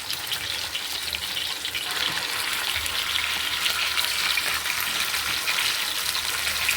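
Fish frying in oil in a pan over medium heat gives a steady, close, bright sizzling hiss that holds evenly throughout, with no speech.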